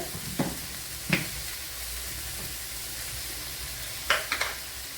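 Soya chunks fry with coriander powder in a pan, a steady close sizzle broken by a few sharp scraping stirs of a spoon, no talk.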